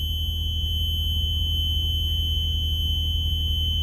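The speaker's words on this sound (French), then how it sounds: "Là ça met une alarme parce qu'il est à 11 degrés" Refrigeration unit sounding a steady electronic temperature alarm over a constant low compressor hum, a continuous tone with no pauses and no talk.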